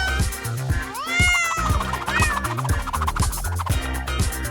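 Cartoon cats meow in a LEGO animation, several rising, drawn-out meows close up over bouncy background music, with no talking.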